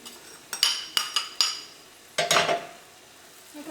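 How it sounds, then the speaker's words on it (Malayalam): Fried bitter gourd goes into a pan of pickle, with several sharp clinks of a spoon against the pan, then a short burst of stirring and scraping. "ഇനി ഇതിലേക്ക് നമുക്ക് നമ്മൾ വറുത്ത് വെച്ചേക്കുന്ന പാവയ്ക്ക ചേർക്കാം."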